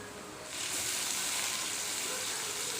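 Chicken hits a pan of softened onions and breaks into a steady, soft sizzle that carries on as a gentle crackling hiss through the rest of the moment.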